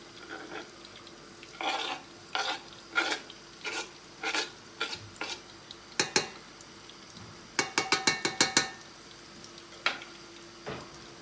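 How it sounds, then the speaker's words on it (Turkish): Zucchini tumbles into a hot pan, then a spoon scrapes and stirs in a steady rhythm, with sizzling underneath and a few quick clattering bursts. "Kabağımı üzerine döküyorum."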